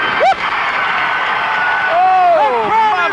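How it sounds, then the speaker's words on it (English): A wrestling arena crowd cheers wildly with loud, sustained roaring, whoops and shouts, with a commentator's excited voice rising over the noise. "Oh, the crowd is going wild."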